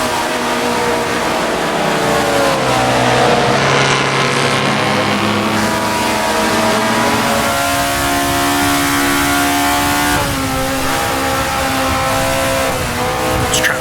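1960s sports race cars lapping Suzuka in the Assetto Corsa racing game, engines droning loud and steady with rising and falling revs as the pack is passed, plus brief tire squeal.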